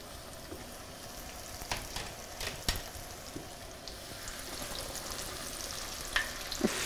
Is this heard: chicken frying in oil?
yes